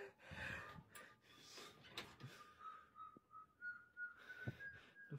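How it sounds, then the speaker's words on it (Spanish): Faint, drawn-out whistling carries from outside a hospital, a thin steady tone rising slightly, with soft breathing and small rustles close by. "Se escuchan de afuera los silbidos."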